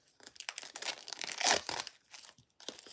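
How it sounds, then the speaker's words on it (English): Fresh tarot card decks being unwrapped, with dense crinkling and tearing of plastic wrap in irregular bursts, close and fairly loud, peaking midway before a brief lull and a final rustle. "Trying to open these last few decks so I can get them all shuffled"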